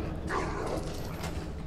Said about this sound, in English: Let's dodge those dogs.